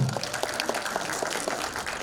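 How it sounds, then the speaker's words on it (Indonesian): An audience at a film screening and press event applauds for the film team, a dense patter of claps at moderate level, somewhat distant and washed together, with a faint voice at the very start. "tepuk tangan dong untuk seluruh tim dari film Adagium"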